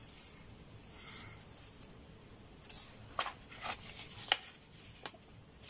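A tool scores two fold lines on Stampin' Up cardstock, giving soft scraping strokes and a few sharp taps and clicks, close and fairly quiet.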